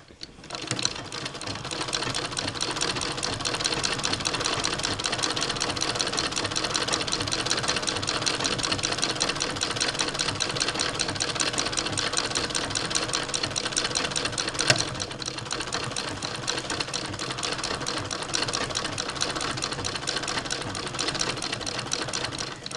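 An 1891 White VS II antique sewing machine sews denim jeans in a steady, unbroken mechanical whir with rapid needle chatter that runs close and loud for the whole stretch, with no voices.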